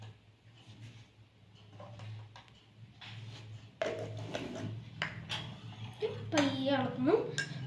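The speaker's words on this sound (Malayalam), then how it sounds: "പയ്യെ ഇളക്കുന്നു" A spoon stirs salt into water in a glass, giving faint clinks and soft scraping against the glass that grow louder and busier toward the end over quiet background noise.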